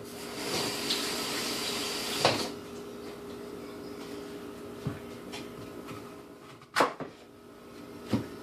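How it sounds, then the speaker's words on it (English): Tap water running over an apple being rinsed at a kitchen sink: a steady, moderate splashing stream with a few knocks and clunks. "Let me rinse this apple."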